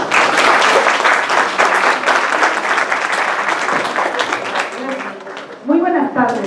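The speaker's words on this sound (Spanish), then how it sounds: "Un fuerte aplauso, por favor." Conference audience breaks into loud, sustained applause filling most of the moment, tapering near the end as a voice begins speaking.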